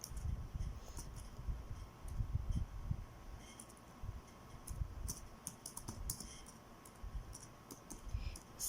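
Fingers type on a computer keyboard while composing an email subject line, producing quiet, irregular clusters of key clicks and taps at close range with no speech.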